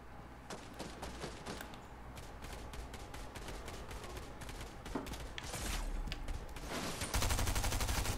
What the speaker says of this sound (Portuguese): Tem gente atirando em você.